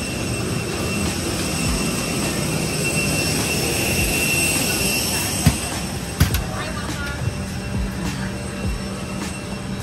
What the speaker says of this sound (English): So the plane rolls around at like 4:45.